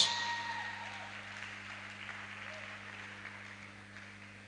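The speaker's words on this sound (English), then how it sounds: "Please give her a round of applause." An audience at a youth development event applauds in a steady, fairly distant wash of clapping that slowly fades, with no talk over it.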